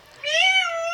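A single clear cat meow, close and loud, rising then holding steady for most of a second against a quiet background.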